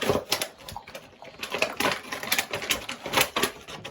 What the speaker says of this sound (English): Just rip it open here.